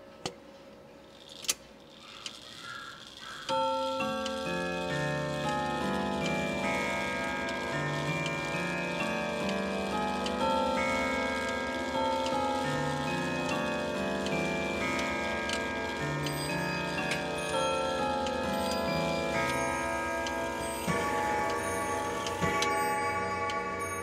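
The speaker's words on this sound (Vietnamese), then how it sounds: "bây giờ em xin được test cái tiếng chuông để các bác thẩm âm với 3 bản nhạc mà chiếc đồng hồ này mang lại" An American triple-chime clock with brass chime rods plays its chime melody, ringing metallic tones in sequence that sustain and overlap, loud and close, after a few ticks and a mechanical click at the start.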